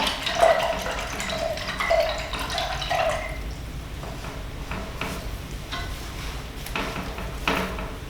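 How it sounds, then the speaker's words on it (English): A paintbrush is swished and tapped in a water jar, making short bursts of splashing and clinking in the first few seconds, followed by softer intermittent taps and drips nearby. "And then I'm going to wash my brush off really well."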